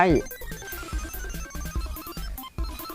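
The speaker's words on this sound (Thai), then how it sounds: "การแจ้งเตือนขึ้นนะครับ" A phone notification alert chimes briefly at the very start, layered over the busy battle effects of a Mobile Legends game that keep thumping and clattering afterward.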